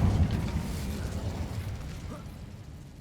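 A fiery burst from the Incendio spell in Hogwarts Legacy, a loud low whoosh and rumble at the start that fades into a sustained crackling roar.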